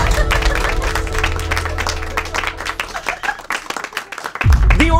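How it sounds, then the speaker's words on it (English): An audience breaks into lively clapping and applause, a dense patter of many hands, with voices mixed in and a louder burst near the end. "Clap for us."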